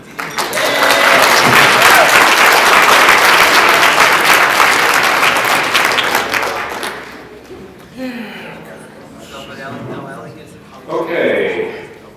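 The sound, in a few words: audience applause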